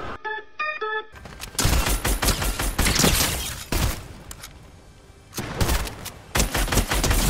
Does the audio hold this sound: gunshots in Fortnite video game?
yes